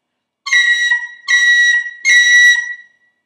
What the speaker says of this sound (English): So now let's do a high B cut with a C on the tin whistle.